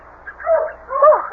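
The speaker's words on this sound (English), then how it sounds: "I'll get the dogs quiet." Dogs in a radio drama let out two short, close whining barks and yips, brief and fairly loud, with no speech over them.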